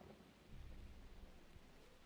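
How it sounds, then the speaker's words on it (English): Thunder and rain in the video game Shelter 2, a faint, continuous wash of rainfall with a low rumble of thunder swelling in the middle, heard alone without voices. "thunder and lightning and rain and stuff"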